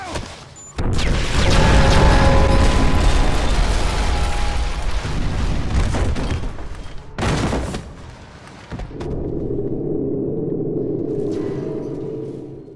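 A bomb blast in a building in the Modern Warfare game bursts in loud and dense, then rumbles and crackles on through debris, with a second sharp hit before a lower, steady roar takes over.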